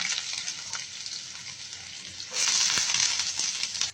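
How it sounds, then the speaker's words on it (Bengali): Chopped onions sizzle and crackle steadily in hot oil with whole spices for beef haleem, the frying growing louder and denser partway through, close and with no talk. "এবার দিয়ে দেবো পেঁয়াজ কুচি"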